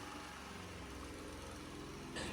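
A petrol generator fitted with a replacement AVR runs steadily with a close, continuous engine drone, rising briefly in intensity near the end.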